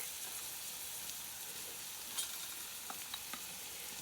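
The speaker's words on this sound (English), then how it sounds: "We add our garlic, stir, and then we're gonna cook about another minute and let the garlic cook into the veggies." Garlic sizzles and is stirred with vegetables such as celery in a soup pot, giving a steady close frying hiss with a few light scrapes of the spoon.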